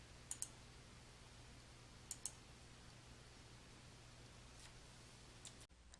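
A computer mouse clicks on the OK button in Excel, a few faint, sharp clicks in close pairs spaced across a quiet, humming room.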